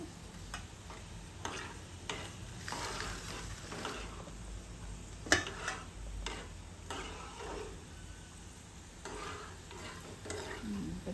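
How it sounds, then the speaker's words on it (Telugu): Crushed raw garlic frying in oil for a mango pickle, a quiet, close sizzle broken by repeated light stirring scrapes and clicks at irregular intervals, with no voices. "2 పచ్చి వెల్లుల్లి రెబ్బలు దంపేసి ఇందులో వేస్తున్నాను పచ్చట్లో."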